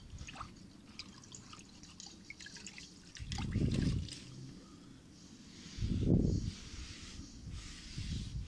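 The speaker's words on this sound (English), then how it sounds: "do a round with a clean bucket of water and a sponge before using some heavier cleaner" A wet sponge with water wipes car door rubber seals, giving quiet dripping and trickling plus two louder squelching swipes, close and soft.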